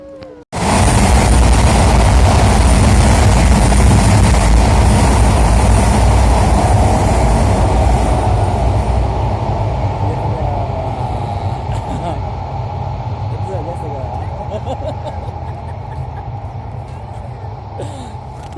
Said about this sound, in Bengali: ট্রেন গেছে গা